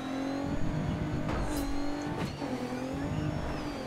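Rally car engine revving high in the Dirt 3 racing game, a loud steady drone with rising and falling pitch and a couple of sharp bursts, with no talking.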